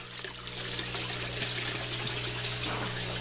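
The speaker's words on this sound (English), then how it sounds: "The water flow into the fish tanks coming from the sump tank." Water from a sump tank pours into fish tanks in an aquaponic greenhouse, a steady splashing trickle over a low pump hum, close and continuous.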